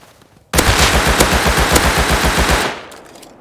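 A long, loud burst of rapid automatic AK rifle fire in the video game Rust, about two seconds of evenly spaced shots that stop abruptly and are followed by a short echoing tail.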